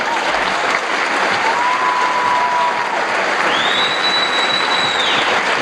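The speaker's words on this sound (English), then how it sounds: "give them a big round of applause" Basketball fans in a high school gym give a loud round of applause for Athletic Hall of Fame inductees. The dense clapping carries scattered cheers and a couple of sharp whistles throughout.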